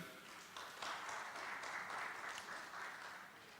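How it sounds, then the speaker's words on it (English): Audience applause at a football tournament media launch in St. Lucia, a steady, moderately distant patter of clapping that swells after a brief start and holds evenly throughout. "Round of applause, please."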